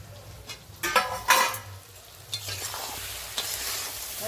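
Masala with ground coriander, cumin and chopped tomato is stirred and sautéed in hot oil for a spicy king crab curry, with a steady sizzle and a few louder scraping stirs of a spoon against the pan.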